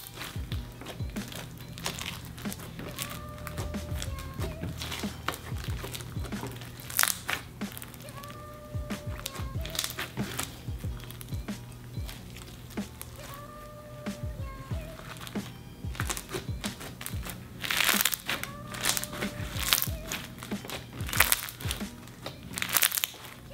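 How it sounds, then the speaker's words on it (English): Fishbowl beads slime being squeezed and crunched in ASMR style, with repeated crackling, crinkly pops in irregular bursts up close and occasional faint background sounds. "I just got a new bag of these fishbowl beads"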